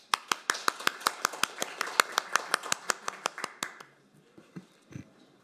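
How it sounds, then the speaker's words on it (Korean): Audience at a seminar on delayed post-war PTSD and veterans policy claps in sharp, distinct beats, a brisk run of individual handclaps for about four seconds that then fades into scattered light sounds and room noise. "여러분 큰 박수 부탁드립니다"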